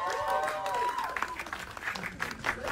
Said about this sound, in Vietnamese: Mọi người trong tràng pháo tay thật lớn đối với Thúy Vân là không ạ?